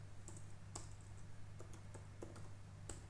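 Typing on a computer keyboard while writing React code, with scattered individual key clicks in irregular bursts, fairly quiet over a steady low hum.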